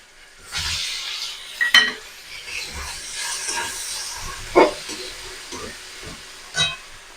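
Chopped large tomato tipped into a hot pan of ginger and green chilli for a vegetarian mung dal and pointed gourd curry, giving a sustained loud hiss and sizzle with a few sharp utensil clanks against the pan.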